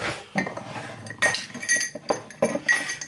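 A metal spoon repeatedly clinks and knocks against a wooden kuksa cup, several close, fairly loud irregular taps and scrapes in a quiet room with no talk.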